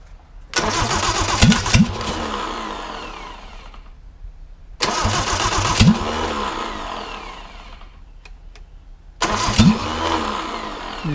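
A 1959 Triumph TR3 engine mounted on a stand, with its timing off, cranks over loudly in three long bursts of rhythmic churning from the starter, each attempt trailing off into quiet pauses without the engine catching.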